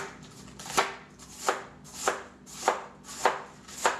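A knife cuts thin slices through napa cabbage on a board, making six crisp, evenly spaced chops close by with no talk.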